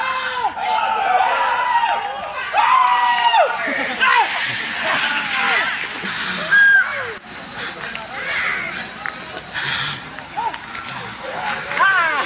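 At the finish of a road bike race for the 50-and-up category in Bulacan, someone shouts loudly and long over a noisy outdoor crowd, with his voice rising and falling close by.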